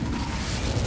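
A roaring burst of fire from an Incendio spell in the video game Hogwarts Legacy, a short dense rumbling whoosh, loud and continuous with no talk over it.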